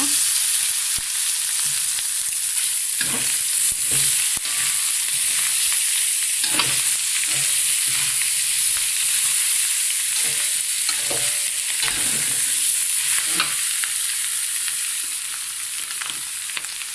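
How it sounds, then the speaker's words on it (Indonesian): Beef chunks frying in fragrant spice paste for rendang, stirred with a steady run of scraping strokes and a continuous bright sizzle throughout, close and fairly loud with no talking. "Nah, ini bumbunya udah bau wangi, jadi dagingnya kita masukkan ya."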